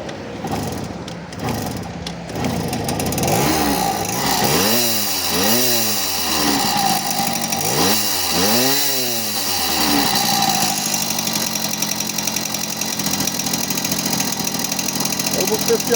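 A small two-stroke Ogar 200 moped engine idles with a buzzy, uneven rattle, its pitch swelling and dipping a few times as the throttle is blipped.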